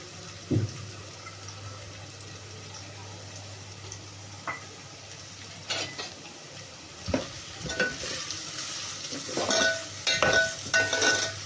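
Onion and chili fry in a pan with a soft, steady sizzle and occasional stirring scrapes and clinks, close by, growing busier toward the end, with no talking.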